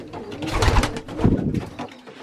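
Young racing pigeons coo in a loft, a few low throaty rolling calls close by, rising and falling in two main bursts.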